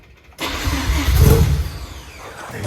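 A Mazda RX-7 engine with a weak battery cranks and catches, then roars loudly and close before settling toward a rough idle.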